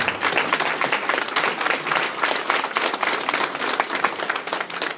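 A political investiture gathering in Nanterre claps for an introduced party representative, a steady wash of many hands applauding, moderately loud and sustained throughout.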